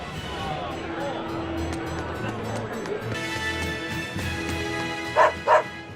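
Dog barks and yips from a scene in the video game Tales of Berseria, set over a steady music bed, with two sharp, louder barks near the end.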